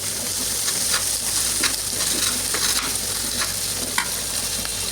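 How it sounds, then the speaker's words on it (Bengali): Frozen blended ginger-garlic paste hits a hot pan for a country-chicken and potato curry, giving a steady, close hiss of sizzling with light stirring scrapes and no talk. "এই তো দিচ্ছি আদা রসুনের পেস্ট"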